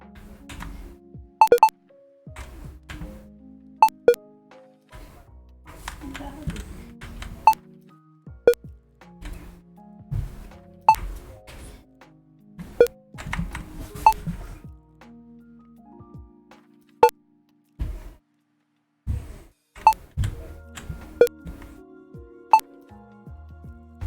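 Short beep and blip effects from a Pong game built in Unity, sparse clipped tones at differing pitches that pop out irregularly against near silence.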